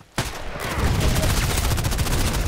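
A Scorpion EVO submachine gun fires in Contract Wars as a rapid, sustained automatic burst, loud and close, with evenly spaced shots running continuously after a brief quiet start.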